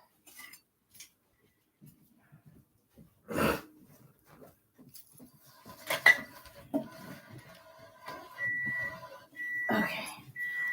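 Someone rummaging through a cutlery drawer for a butter knife, quiet near clinks and metallic rattles of silverware between moments of near silence, with a few louder clattering bursts and some faint breathing.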